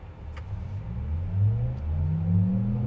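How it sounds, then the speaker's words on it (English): A 2026 Cadillac Vistiq Sport accelerates from inside the cabin, a low engine drone rising steadily in pitch as speed builds, with a smooth continuous rumble. "hitting the accelerator there, John, we got up to speed really quick."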